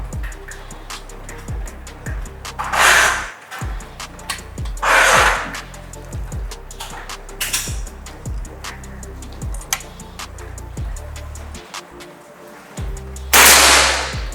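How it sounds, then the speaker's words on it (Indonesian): A series of sharp, snappy PCP air rifle shots fired one at a time, each a brief crack followed by a pause, with faint ticking and handling sounds between. "Oke, kita coba untuk tembakan kedua."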